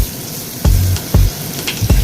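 Chopped medium onion frying with turmeric powder and leaves for dal, a low sizzle broken by three or four sharp stirring scrapes at a steady pace, close and alone.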